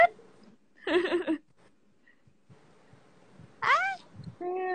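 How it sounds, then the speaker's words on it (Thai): A cat meows several times in separate, drawn-out cries, close and clear, with quiet gaps and faint background noise between the calls. "โอ้ยแมว"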